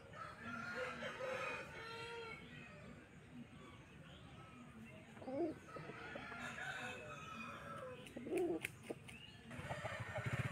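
Roosters and hens at a busy rural chicken market in Jhargram, West Bengal, with a couple of crows and clucking rising over a faint crowd murmur, fairly quiet and somewhat distant.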